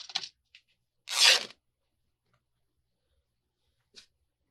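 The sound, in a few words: cutting fabric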